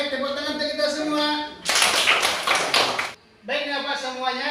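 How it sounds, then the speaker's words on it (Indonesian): A classroom bursts into a short round of brisk clapping lasting about a second and a half, set between stretches of a teacher's speech. "tepuk tangan untuk kita semua"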